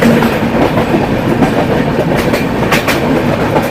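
A passenger train from Kolkata toward Deoghar runs past Dum Dum Junction, with a loud, steady rolling rumble and rhythmic clickety-clack of wheels heard close from on board.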